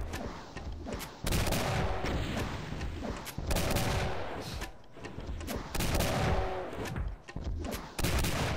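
Shotgun blasts in the video game Doom: The Golden Souls, repeated heavy booming shots spaced a couple of seconds apart amid game background noise.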